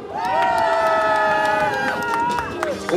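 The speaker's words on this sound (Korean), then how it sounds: "다시 한번 큰 박수 부탁드리겠습니다" A large crowd cheers and shouts loudly at a Korean presidential election campaign rally, with sustained voices and scattered clapping filling the full three seconds.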